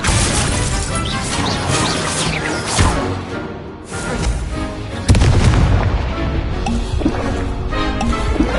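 Spell blasts and explosive impacts burst in the Hogwarts Legacy video game, a dense loud barrage of booms, crashes and crackling bursts with sharp hits around the middle and no clear pauses.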